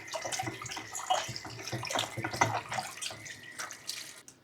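Water splashes and runs over pork intestines as they are rinsed, a steady close slosh with irregular wet gurgles and drips, fairly soft and without talk.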